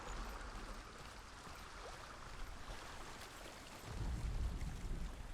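Quiet rushing water from a small waterfall in the game Hellblade: Senua's Sacrifice, a soft continuous splashing stream that swells slightly louder near the end.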